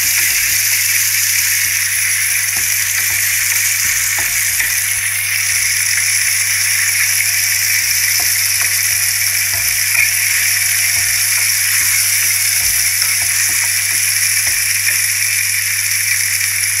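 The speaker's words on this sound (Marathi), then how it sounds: "छान अशी तेलामध्ये खमंग आलं लसूणची पेस्ट परतून घ्यायची" Ginger-garlic paste fries in hot oil for a prawn biryani, making a loud, unbroken sizzling hiss that holds steady throughout, with faint clicks scattered underneath.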